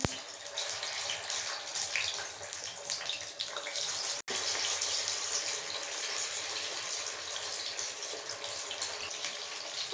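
Chicken pieces for chilli chicken fry in hot oil with a steady, close sizzling hiss that runs unbroken except for one momentary dropout.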